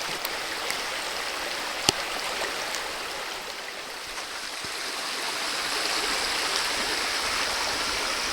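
A creek runs over and under rocks along a hiking trail at Big South Fork, Tennessee, giving a steady, soft, hissing rush of flowing water with a few faint clicks and no voices.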